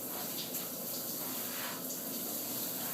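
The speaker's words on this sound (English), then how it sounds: "And I just happen to be showering in my clothes." Shower water runs steadily in a hotel bathroom at Hotel Azura, a continuous close hiss and spatter with no pauses or voices over its full length.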